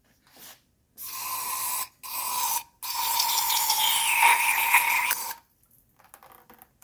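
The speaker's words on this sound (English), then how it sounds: "So I'm going to spray some Deox down in there." Deox electric parts cleaner hisses from an aerosol can into a Mercedes 300SD window motor in three close bursts: two short sprays followed by a longer sustained one, then quiet.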